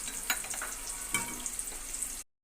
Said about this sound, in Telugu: అల్లం ముక్కలు, వెల్లుల్లిపాయ ముక్కలు కూడా వేసి వేయించుకుందాం.